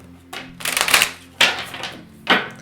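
Tarot cards are shuffled by hand in three brisk riffling bursts, close and crisp, with short pauses between them and no talking.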